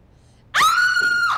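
A woman screams in one sustained high-pitched cry lasting about a second, loud and close, breaking sharply out of near silence in a courtroom.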